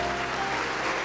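Dense audience applause fills a television studio during an auction and appraisal show, a steady, loud wash of many hands clapping together for about a second.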